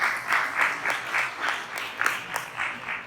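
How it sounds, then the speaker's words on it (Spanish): An audience claps during a Spanish-language sermon, in distinct uneven bursts at a moderate level, with a few sharper claps near the end. "un aplauso para mi Adán físico"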